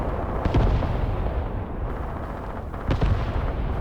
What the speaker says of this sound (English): the mortar barrage is landing